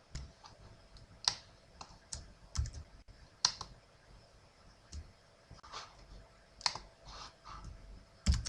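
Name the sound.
typing on a computer keyboard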